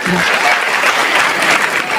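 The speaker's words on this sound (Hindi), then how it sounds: "ताली वाली बजा दो इनके लिए" An audience claps for Dr. Satish, convener of a local organisation, at a public function. The applause is dense and loud for two seconds, with some voices mixed in.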